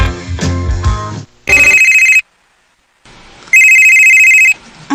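A cellphone rings loudly and up close in two bursts of electronic tones with a silent gap between them, and a louder musical passage plays before the first ring.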